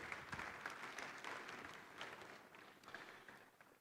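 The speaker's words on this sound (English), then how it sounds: "A round of applause, please." An audience at a bank conference in Ghana claps for a former prime minister walking on stage. The clapping is moderately distant and fairly soft, rising and falling in texture across a few seconds.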